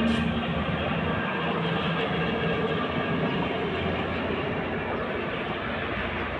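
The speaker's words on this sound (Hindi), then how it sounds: "यहाँ पे ट्रेन जा रही है।" A train passes near a monastery in Solan, Himachal Pradesh, with a loud, steady rumble and rattling wheels that hold throughout and ease slightly toward the end.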